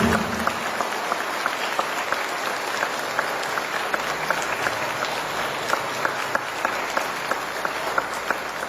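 A church congregation applauds a visiting group during Sunday Mass with steady, sustained clapping that holds at a moderate level throughout, with no talking over it.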